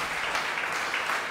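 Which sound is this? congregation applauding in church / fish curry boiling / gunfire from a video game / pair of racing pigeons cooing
congregation applauding in church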